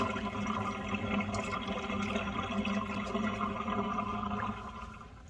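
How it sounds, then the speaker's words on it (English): Water wrung from a synthetic wig after rinsing, a steady, close, continuous trickle and splash running throughout and easing off near the end. "I am just going to take the wig out of the water and I am just going to squeeze the excess water out of it."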